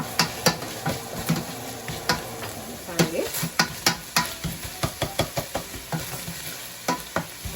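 Onion frying with garlic and ginger paste and a piece of red pepper for a mushroom curry is stirred in a pan, giving a steady sizzle punctuated by a rhythmic series of sharp spoon scrapes and knocks, close up with no talk.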